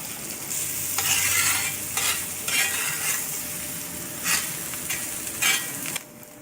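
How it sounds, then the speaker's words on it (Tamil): Chopped onion sizzles steadily in hot oil on a new iron dosa tawa being seasoned, with repeated scraping strokes of a spatula stirring it. "ஒரு பெரிய வெங்காயத்தை இந்த மாதிரி பொடியாக நறுக்கி போட்டு இதில் வதக்கிக்கோங்க"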